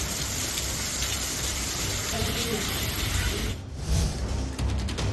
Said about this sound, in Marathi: बुलढाणा जिल्ह्यात रात्रभर पावसाची संततधार होती